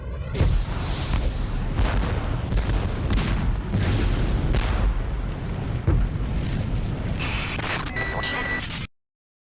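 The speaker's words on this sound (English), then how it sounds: "Where you get to see a nuke actually going off." A huge, deep nuclear explosion in a video game roars and rumbles continuously, with a heavy low-end boom and crackling debris, ending abruptly in silence.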